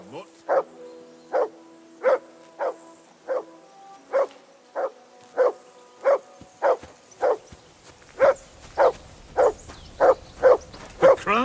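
A dog in the video game Kingdom Come Deliverance 2 barks repeatedly in a steady, evenly spaced rhythm, each bark loud and close, with a low rumbling undertone between some barks.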